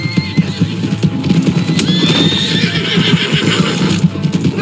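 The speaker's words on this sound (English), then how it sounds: "Hey, that's my horse." A horse whinnies loudly over rapid clip-clop hooves of a gallop in Red Dead Redemption 2, with game-like ambience and no talking.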